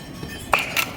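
A fluorescent tube light's glass gives a sharp, close pop as it breaks, followed moments later by a second bright, glassy crackle in an otherwise quiet room.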